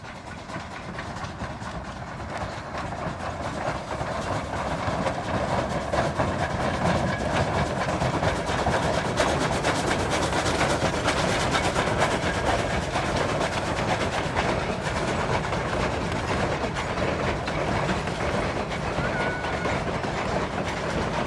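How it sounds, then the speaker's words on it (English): A C&T train rolls across a trestle close by, with a loud, continuous rumble and steady rail clatter that build over the first few seconds and then hold. "Here we are close up on the trestle."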